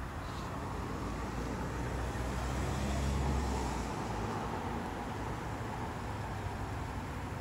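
A bus pulling out after filling up with diesel, a steady broad engine and road rumble that swells slightly mid-clip, with traffic noise around it and no talk.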